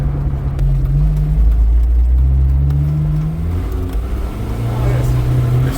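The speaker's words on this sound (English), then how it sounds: "They're spinning tires." A Jeep Wrangler TJ's engine drones and rises steadily as its tires spin, a continuous close mechanical roar with shifting pitch and no breaks.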